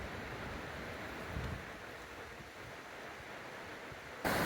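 A creek flows under a bridge at the entrance to Joyce Kilmer Memorial Forest, a steady broadband rush of water heard close and continuous, with a brief louder swell near the end.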